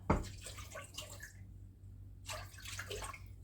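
Two glasses of water poured into a small container to make a marinade for Mersin dried fish, a close, steady splashing pour that breaks off briefly and then resumes.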